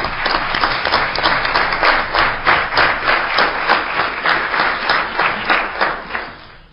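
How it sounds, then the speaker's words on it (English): An audience at the State Capitol gives a round of applause, close, loud clapping that swells into a rhythmic, pulsing beat before tapering off at the end. "Let's give them another round of applause."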